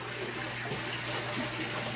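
Water blasting from a Fluval FX6 aquarium canister filter outlet with no diffuser fitted, a constant forceful gushing and churning of water under a low steady pump hum, no voices.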